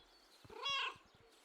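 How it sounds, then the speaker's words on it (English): A cheerful cat meow from the Kentucky Route Zero video game, a single bright, rising-and-falling call heard up close against a quiet background. "Cheerful meow."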